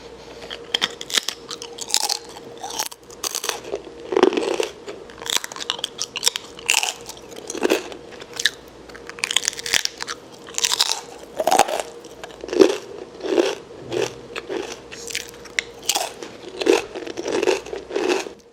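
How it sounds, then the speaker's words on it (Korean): Crunchy whole-grain Pinkrisp snack eaten up close, with repeated loud crisp bites and crackling chews in irregular bursts, no talking. "지금부터 핑크리스프 제품을 먹어볼게요."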